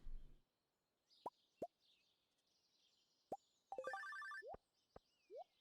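A telephone rings in the farming video game Stardew Valley, a short electronic trilling burst among soft plopping clicks and gentle game ambience, quiet and with no talking.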